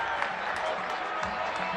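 A Zimbabwean crowd at Harare Sports Club roars and applauds at a cricket match against Sri Lanka after a wicket, a dense, sustained wash of crowd noise with speech mixed in.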